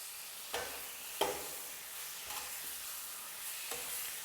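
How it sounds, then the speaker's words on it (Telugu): Ginger garlic paste frying in a pan for a fish masala curry, with a steady soft sizzle and a few sharp scrapes of a spatula stirring at intervals. "అల్లం వెల్లుల్లి పచ్చివాసన పోయే వరకు వేయించుకోవాలి"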